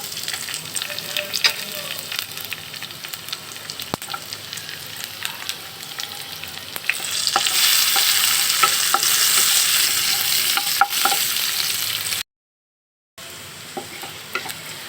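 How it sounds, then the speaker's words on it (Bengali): Bay leaves, dried chillies and chopped onion fry in hot oil for a tempering, a close crackling sizzle with scattered pops that swells louder midway, then a short silence before the frying resumes. "ফোড়নের জন্য দিয়ে দিব তেজপাতা শুকনো মরিচ দিয়ে দিব কুচানো পেঁয়াজ"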